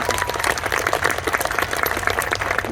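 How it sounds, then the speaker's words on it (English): A festival opening-ceremony audience claps steadily in a dense, continuous wash of applause that stays fairly loud throughout, with no speech over it. "Another great place for applause."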